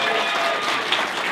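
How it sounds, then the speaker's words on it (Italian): A crowd at a 50th wedding anniversary celebration claps steadily and loudly for the couple, a dense continuous wash of applause throughout. "Se facciamo un forte applauso agli sposi."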